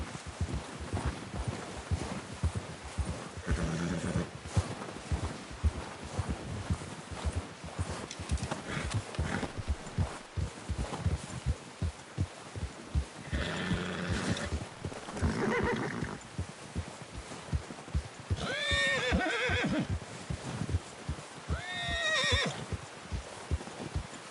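Horse whinnying several times over a steady clip-clop of hooves while riding back from a hunt, with the neighs rising clearly above the rhythmic hoofbeats throughout.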